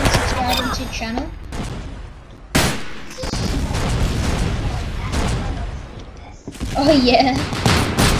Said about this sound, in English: We're just firing rockets. Everybody on my team's firing rockets everywhere.